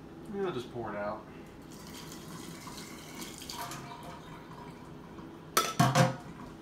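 Hot water splashes out of a container in a short pour, with clinks of dishes and someone talking briefly between the sounds.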